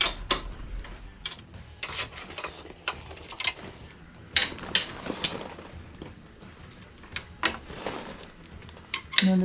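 Metal clicks and ticks from a 13mm wrench tightening a bolt on a bar, with a spacer fitted, scattered in irregular bursts at close range with no talk.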